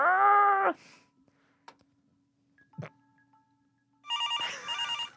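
A hotel telephone rings for a wake-up call, a loud electronic ring at the start, then near silence with small clicks and faint tones, ending in a bright warbling burst of ringing.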